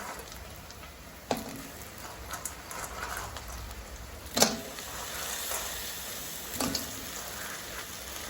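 Garlic sautéing in a pan for a spicy Jaffna-style crab curry: a steady, moderately quiet crackling sizzle with a few sharper pops and spits scattered through it.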